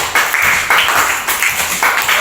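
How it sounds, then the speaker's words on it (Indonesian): Students in a classroom clap for a classmate after a science presentation on food chains, a short burst of mixed hand claps that swells and fades in waves, fairly close and moderately loud. "Oke, kasih tepuk tangan dulu untuk kerja keras kamu."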